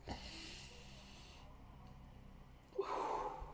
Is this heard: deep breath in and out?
yes